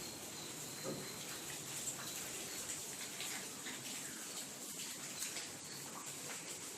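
Steady rain falling outside, a constant, even wash of water noise with faint drips, fairly distant and unbroken for the whole stretch, with no voices.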